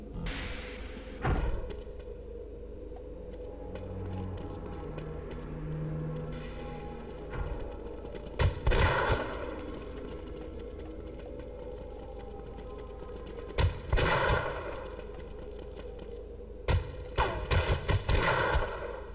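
Machine gun fire in the video game Half-Life comes in several short bursts of rapid shots, separated by stretches of low background rumble, with the last bursts clustered close together.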